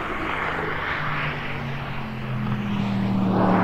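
A RENNtech-tuned Mercedes-AMG GT S with the R1 package holds a steady, loud engine drone with a low humming tone, swelling slightly toward the end.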